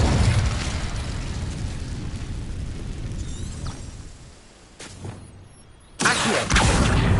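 An Incendio fire spell bursts out in Hogwarts Legacy: a loud, roaring blast of noise that dips briefly, then flares again with a sharp burst near the end.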